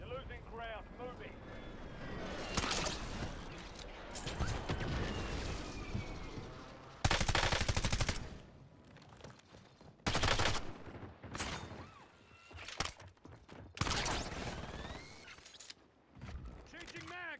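Video game gunfire in a squad shooter from an enemy juggernaut, loud bursts of automatic fire arriving in repeated volleys with short gaps, under and between a player's talk.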